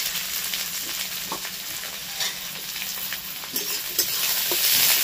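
Chopped green chili, garlic and a large chopped onion fry in hot oil, giving a continuous close sizzle with occasional stirring scrapes and small crackles, steady and unbroken by speech.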